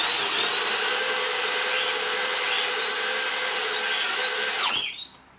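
A DeWalt Powerstack hammer drill running in low gear whines steadily at a constant pitch for several seconds, then abruptly stops and winds down.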